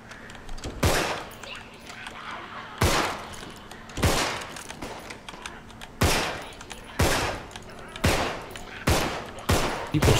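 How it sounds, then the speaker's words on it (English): Bursts of automatic gunfire from people shooting nearby in the survival game Dead Night, about nine sharp loud volleys in an irregular rhythm with no talking. "People shooting near me, I don't like it."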